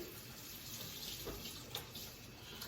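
Hands rinsed under a running kitchen tap while baking almond biscotti, a steady, soft wash of flowing water with no talking.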